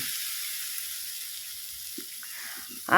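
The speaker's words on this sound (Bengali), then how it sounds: "হালকা একটু জল দিয়ে দিয়ে কিছুক্ষণ মশলাটা কষিয়ে নিয়েছি" Spice paste with turmeric and a splash of water sizzles steadily in a pan for a big koi fish curry, a soft continuous hiss with a few faint stirring scrapes and a louder burst at the end.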